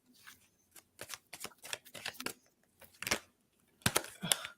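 Tarot cards are shuffled by hand for a reading, a series of quick crisp riffling bursts and soft flicks in an irregular rhythm, close and fairly quiet with no talk.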